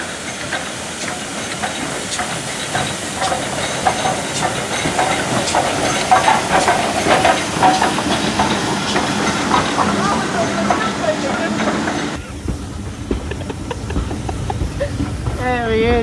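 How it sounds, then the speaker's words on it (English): Ivatt Class 4 steam locomotive 43106 arrives on a wet day at the Severn Valley Railway, its steady loud steam hiss filling the platform for many seconds, with someone talking over it. "So you heard when the Ivet Class 4 was coming in,"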